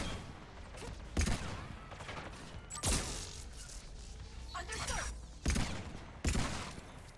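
Weapon fire in Mass Effect comes in sharp, sparse bursts: several distinct loud shots spaced over a few seconds above a low ambient battle hum, with faint mechanical sounds between them.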